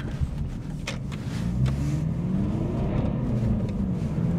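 A BMW 320Cd E46 coupe diesel drives along a country road, its engine a steady low drone with rising harmonic sweeps as it accelerates, heard close from inside the cabin with tyre and road noise underneath.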